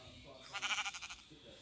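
Minecraft sheep bleats in a short rhythmic run of quavering pulses, moderately loud over a quiet game background.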